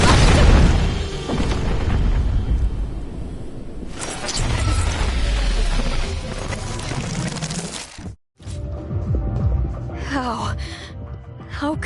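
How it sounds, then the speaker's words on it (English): A big explosion at Aurora Industries in the Tower of Fantasy video game: heavy booming blasts and rumbling debris roll on for several seconds, with gasps and game dialogue mixed in and a brief drop to silence before more crashing. "Where did this explosion come from?"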